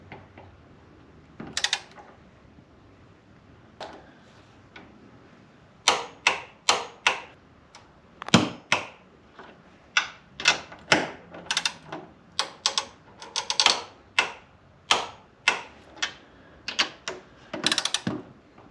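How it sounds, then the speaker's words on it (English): A torque wrench clicks in quick, sharp bursts while coilover bolts on a 2018-2024 Chevrolet Equinox are tightened to spec, irregular clusters of close, crisp mechanical clicks with brief pauses between, no voices. "we're gonna torque them to spec, which is gonna be 18 foot-pounds"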